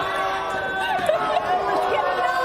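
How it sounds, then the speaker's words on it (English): A poker rail at a World Series of Poker Ladies Championship final table cheers in a busy room, a continuous babble of excited crowd voices with overlapping shouts. "Her own rail is cheering against her."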